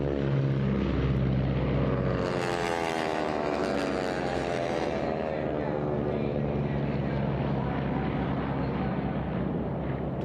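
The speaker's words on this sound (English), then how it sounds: "Basically stock matched aircraft right here. They're all flying the same Pratt & Whitney radial air-cooled engine." Racing T6 aircraft with matched Pratt & Whitney radial air-cooled engines droning loudly and continuously, a fly-by with shifting pitch, under commentary voices.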